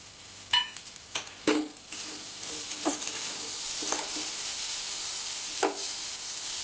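Spice paste with chopped green chillies frying in a pan, with a soft steady sizzle broken by several sharp scrapes and knocks of a spoon stirring against the metal.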